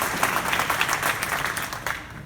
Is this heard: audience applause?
yes